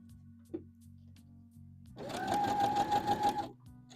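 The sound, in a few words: sewing machine stitching dress seam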